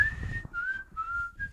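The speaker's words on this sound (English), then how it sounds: "It's even got whistling in it." A melodic whistled tune within a song, several sustained notes sliding between pitches over a low musical backing, clear and fairly loud.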